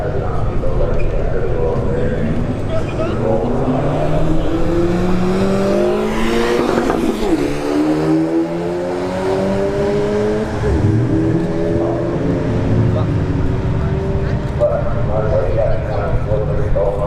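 A Honda Civic Type R and a base-model Subaru WRX drag racing side by side at a test-and-tune night at Bradenton Motorsports Park, engines roaring and rising through gear shifts while a commentator talks over them.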